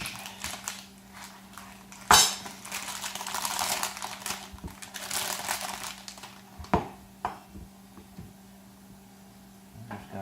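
Two pounds of cheese being chunked with a knife right through its plastic package: crinkling wrapper and sharp cutting clacks against a board, with a few louder knocks amid steady rustling, close up and without talk.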